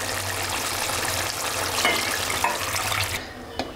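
Water streams steadily into a pot of chicken curry for an Arabian chicken kabsa, a continuous close splashing pour with faint kitchen clinks.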